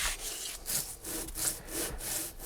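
A Gilera Nordwest cylinder head is rubbed gently back and forth on a flat abrasive surface, a rhythmic scraping stroke repeating about twice a second, close and moderately quiet with no talking.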